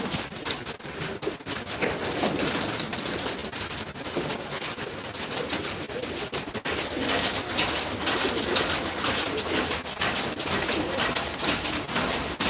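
A large group of pigeons sitting in the sun coos continuously under a dense, noisy wash of sound, with no speech.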